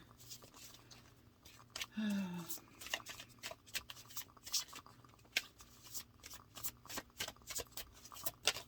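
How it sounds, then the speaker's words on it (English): Tarot cards shuffled by hand in repeated quick riffling bursts, close and soft, with a brief voice partway through. "I'm just going to shuffle and pull out this new spread."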